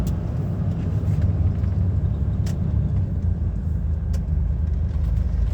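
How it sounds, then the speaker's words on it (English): Heavy lorry cab noise on a UK motorway as the truck brakes, a constant loud low road and engine rumble with a couple of faint clicks and no voices. "Oh, we're braking."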